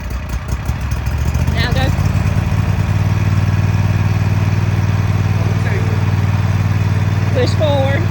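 A zero-turn lawnmower engine runs steadily throughout at a loud, close idle, with people talking over it.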